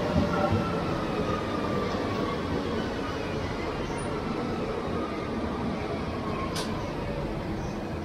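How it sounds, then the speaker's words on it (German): A train approaching in the distance, a steady broad rumble and rush holding level throughout, with a faint high whine near the end and no talk. "Ich glaube, Zug kommt."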